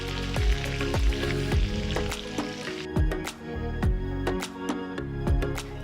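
Chicken pieces fry in hot oil in a kadai, bubbling and sizzling steadily, with a series of sharp crackles and pops at close range.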